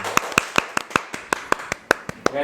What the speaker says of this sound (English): So can we have a round of applause for both of them?